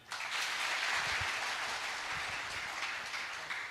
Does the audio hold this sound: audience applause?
yes